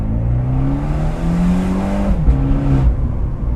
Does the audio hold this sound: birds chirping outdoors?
no